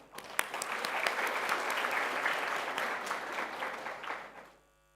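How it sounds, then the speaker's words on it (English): Warm applause from a conference audience at a university research convention, steady dense clapping for about four seconds before fading quickly to silence. "Please join me in giving her a round of warm applause."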